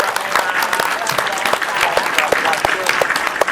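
A small group of high school students at SMA Al Islam Krian claps in quick, uneven bursts, near and lively, with some chatter and voices mixed in among the hands.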